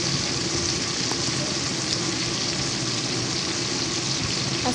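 Chilies sauté in hot oil in a pan in a village kitchen, a constant loud, close sizzle and crackle that holds steady from start to end without talk.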